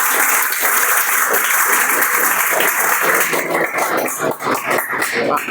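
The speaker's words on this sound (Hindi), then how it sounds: "आप लोग भी ताली बजाकर" A seated crowd at a teachers' workshop seminar applauds to welcome guests, a thick continuous patter of clapping that grows more distinct and uneven toward the end, with faint shuffling.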